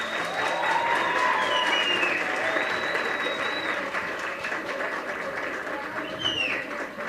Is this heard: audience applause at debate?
yes